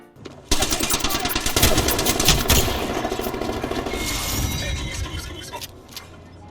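Rapid, dense gunfire from Rampart in Apex Legends rattles out in a sustained burst with clattering impacts. The firing is loud and close and runs through most of the stretch.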